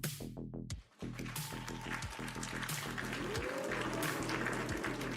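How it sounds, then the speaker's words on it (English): An audience applauds in a steady, dense wash of clapping after a brief pause, continuing evenly to the end, with a rhythmic low pulse and scattered tones running underneath. "A round of applause for Hazel and her wonderful job of doing Act"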